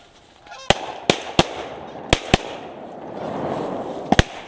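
Shotgun blasts ring out during a late-season goose hunt, several sharp, loud reports spaced irregularly, with honking geese calling in the background.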